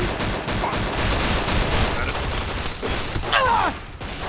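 Gunfire in the video game Fallout New Vegas, a dense loud burst of rapid shots rolling together with a mechanical clatter near the end, close and continuous.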